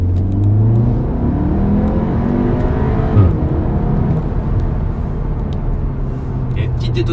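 Cupra Ateca 300 hp SUV engine accelerating in Cupra drive mode, heard from inside the cabin: a steady, loud engine roar with rising revs and a brief pop around the middle, with talk over it.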